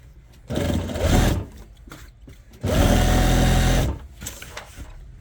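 An electric sewing machine stitches strip lace onto a dupatta in two loud, steady bursts of motor whir, the second longer, separated by quieter handling noise.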